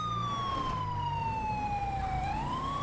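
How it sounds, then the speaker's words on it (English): Police car siren from the GTA 5 game, a loud wailing tone sweeping slowly down then back up, steady and close over low engine rumble. "We'll run lights and sirens."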